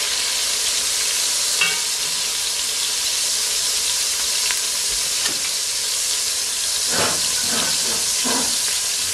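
Rabbit pieces sear in a hot pan over medium heat for a gumbo. The sizzle is a loud, continuous hiss throughout, broken by a few clinks and scrapes as pieces are added and moved. There is no talk.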